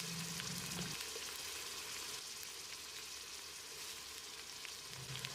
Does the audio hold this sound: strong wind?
no